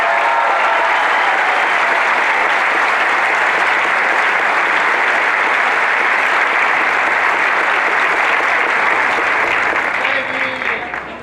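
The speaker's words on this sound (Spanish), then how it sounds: "Un aplauso para la prensa independiente de México." Loud, sustained applause from a large crowd at a Morena party political speech in Mexico, a thick continuous roar of clapping that holds steady for about ten seconds and then begins to fade.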